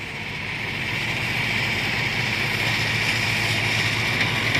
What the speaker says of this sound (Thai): ดีนะครับที่มีรถไถอยู่บ่อครับ